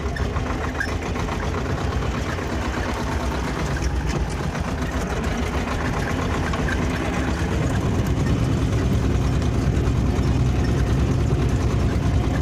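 A tractor engine runs steadily while ploughing sand, stones and sticky clay, a loud, continuous low rumble with a faint knocking texture that swells slightly toward the end.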